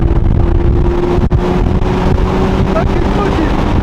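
A car engine revving and accelerating, a loud steady drone with heavy wind buffeting close to the microphone.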